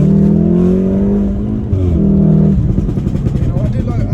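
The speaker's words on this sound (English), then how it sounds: "as soon as you let go of the accelerator, literally it is popping and crackling" A 410 hp Stage 2 VW Golf R revs hard and then drops off, with rough, crackly popping bursts in the exhaust as it settles, loud and close.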